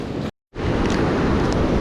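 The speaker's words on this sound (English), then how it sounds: "The waves are starting to get higher and they're coming in further" Ocean waves at an Oregon beach, a steady, loud broadband roar of surf with wind buffeting the microphone and a brief cut-out near the start.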